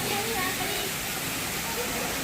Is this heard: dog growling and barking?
no